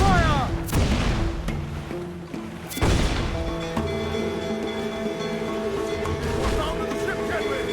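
Ship cannons fire during a naval battle with a fleeing slaver ship in Assassin's Creed IV Black Flag, heavy booms with bursts of crashing impacts over ringing orchestral music.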